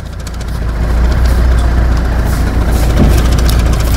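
A car engine with an injector fitted with a double washer runs while revved and misfires, producing a steady low rumble with uneven chuffing pulses, close and loud, with no talking.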